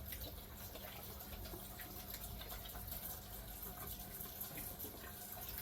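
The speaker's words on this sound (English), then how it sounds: "I'm going to give my hands a quick wash" Water runs steadily from a kitchen tap for hand washing, a quiet continuous rush without pause or voices.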